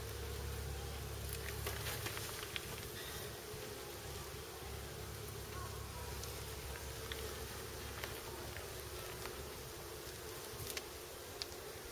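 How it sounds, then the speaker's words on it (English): Honey bees swarm around a hive, a dense continuous buzz with a low hum underneath, steady and close for the whole stretch, with no talking. "you've got a ton of bees, man"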